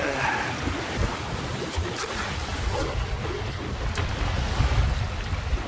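A sailboat cuts through open water at about 6.3 knots on a windward leg, with a constant wash of waves and hull spray mixed with steady wind buffeting the microphone.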